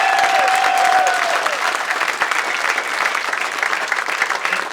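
An audience at a book release event in Minneapolis breaks into loud, dense applause, sustained clapping that stays strong and slowly tapers, with a brief whistle-like tone near the start.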